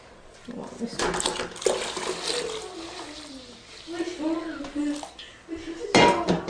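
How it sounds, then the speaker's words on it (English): Homemade laundry detergent soap, thickening toward a gel, is stirred in a pot. Utensil scrapes and clinks come close, with some liquid sloshing and a murmur of voice in the background. "So let's give that a good stir."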